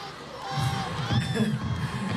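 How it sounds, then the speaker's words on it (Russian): A concert crowd shouts a name in rhythmic unison, a low pulsing chant repeating over a steady electronic hum. "Это вы, наверное, кричите имя Валя, мой звукорежиссер"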